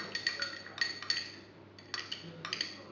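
Metal utensil clinking against a bowl in quick bursts while stirring olive oil with oregano for a focaccia topping, close and fairly quiet, with short pauses between the clinks.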